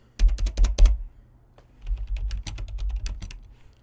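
Someone types on a computer keyboard in two quick bursts of close, crisp key clicks, with a short pause between them.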